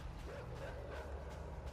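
Dogs barking in the video game Inside, a run of yips and bow-wows over a steady low rumble of game ambience, with no talk.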